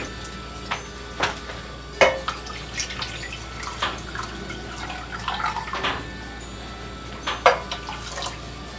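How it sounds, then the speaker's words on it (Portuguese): Water is poured into a pan so it covers a can set inside, giving irregular splashes and drips with a few sharper plops over a low steady background, close by. "vou colocar aqui a água"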